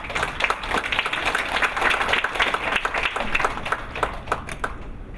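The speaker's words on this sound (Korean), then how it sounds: "힘찬 손뼉 부탁드립니다" An audience at a student creative essay contest gives steady, enthusiastic applause to welcome a presenting team to the stage, many hands clapping together for several seconds before thinning out toward the end.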